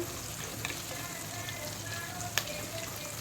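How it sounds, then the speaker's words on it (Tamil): Small shallots fry in a pan with sorrel leaves, making a soft, steady sizzle with faint crackles and occasional light pops; no speech is heard. "சின்ன வெங்காயம் நல்லா ஃப்ரை ஆகட்டும் நல்லா வதங்கட்டும்"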